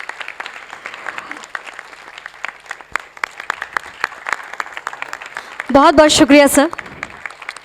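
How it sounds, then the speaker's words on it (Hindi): Audience applause for a guest invited onstage at a Hindi stage play, a burst of clapping about a second long rising near the end, following and under someone speaking into a microphone. "सर के लिए जोरदार तालियां"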